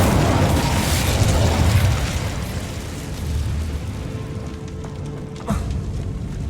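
Incendio fire spell from Hogwarts Legacy bursts into a loud roaring blaze, a crackling, rumbling wash of fire that eases slightly, then flares again with a sharp pop near the end.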